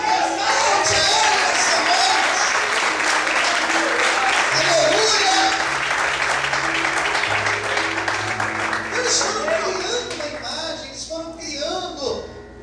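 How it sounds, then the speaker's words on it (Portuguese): Church congregation applauding together, a dense sustained wash of many hands clapping that stays loud for about ten seconds, then thins out and fades near the end with some voices mixed in. "Por favor, não levanta a sua mão, aplauda."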